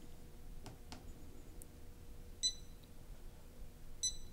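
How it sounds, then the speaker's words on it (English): Two short, clear electronic beeps from a GAS-TRAC LZ-30 laser methane detector as a measurement starts, spaced over a second apart against a quiet room hush. "An audible beep will be heard, alerting us that the measurement has started"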